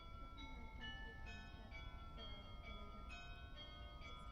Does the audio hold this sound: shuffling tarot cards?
no